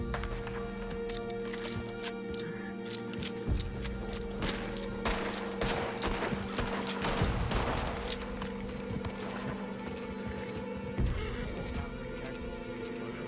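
Gunfire during a Red Dead Redemption 2 roleplay shootout: a steady run of sharp shots, some close and clustered, others scattered and distant, over a constant hum of game sound.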